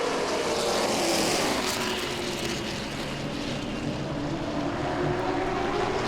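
Late model stock cars racing side by side at Langley Speedway, a loud continuous engine roar from the pack passing nearby, steady throughout with no talk.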